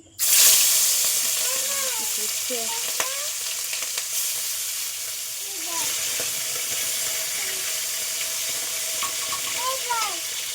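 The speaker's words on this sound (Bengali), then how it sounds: "কড়াই একদম গরম হয়ে গেছে, এগুলো ভেজে নিচ্ছি" Fish fries in a large, very hot wok, a loud sustained sizzle that starts abruptly as the fish goes in, with occasional stirring clatter and a voice talking faintly over it.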